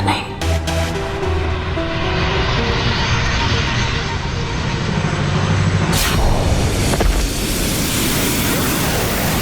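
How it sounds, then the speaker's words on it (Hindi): A loud, steady roar of an aircraft engine, used as a TV show sound effect, builds and surges as the plane speeds up, with a sharp whoosh partway through. "अब मैं इस विमान की गति इतनी तेज कर दूंगी"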